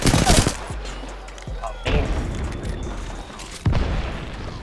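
Gunfire in the Apex Legends video game: loud close bursts of rapid shots with booming impacts, a burst at the start, another near two seconds and a third near the end, separated by ringing tails.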